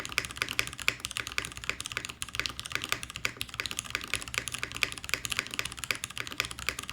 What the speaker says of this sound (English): Let's try a J-Wick switch. This has been lubed and filmed and stuff. This sounds different to me now.